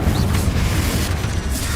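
Confringo fire spell exploding in the video game Hogwarts Legacy, a dense, heavy booming blast of low rumble filling the whole short moment.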